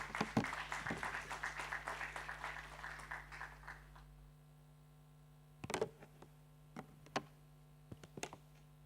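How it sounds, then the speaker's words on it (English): An audience applauds after a church pastor's speech at a wealth summit, several seconds of steady clapping that stops and leaves a few scattered claps and clicks in a quiet room. "A round of applause again for Pastor Abiodun."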